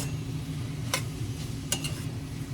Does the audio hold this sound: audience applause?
no